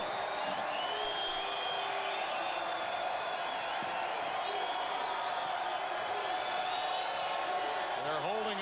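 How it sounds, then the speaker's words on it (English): A basketball crowd at a 1993 college game between Louisville and Tulane, on its feet with a steady roar of cheering and whooping that fills the arena while a commentator talks over it. "and the crowd is on their feet"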